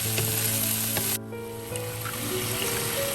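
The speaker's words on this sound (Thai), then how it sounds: "เราผัดแหนมกับกระเทียมให้หอมก่อนนะคะ" Fermented pork sausage (nam) with garlic stir-frying in a pan, a steady loud sizzle throughout with a brief dip in the middle.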